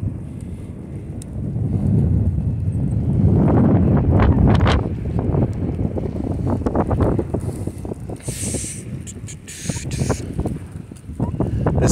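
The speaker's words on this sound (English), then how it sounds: "The snow is blowing in my direction." Strong wind blowing snow outdoors on a university campus roars steadily and loudly against the microphone for the whole stretch, with gusting swells and rumbling buffeting.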